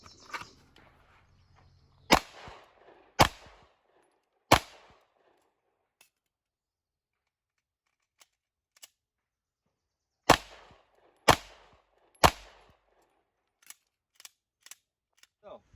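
Six sharp, loud gunshots from a Smith & Wesson M&P9 2.0 9mm pistol fired at an outdoor range, in two groups of three with short pauses between, followed by fainter distant reports from other shooters.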